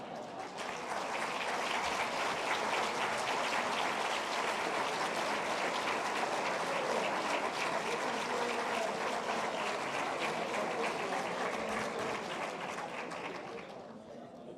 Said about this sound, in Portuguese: durante 5 segundos, batessem palmas e olhassem para os vossos parceiros do lado para ver como é que eles batem palmas